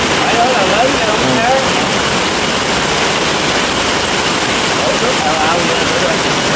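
Heavy early-season rain pours down in Phụng Hiệp, Hậu Giang, a dense, steady roar of water filling the whole scene at close range without pause.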